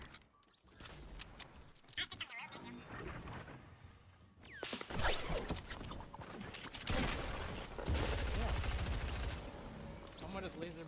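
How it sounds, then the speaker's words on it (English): Laser pistol gunfire in Fortnite, bursts of sharp shots and rapid firing mixed with game effects over about ten seconds, loud and busy, with players talking throughout. "Someone just lasered me with a pistol."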